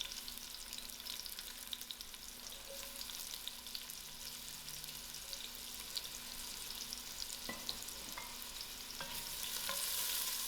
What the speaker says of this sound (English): Give the onions a good mix and allow this to fry soft.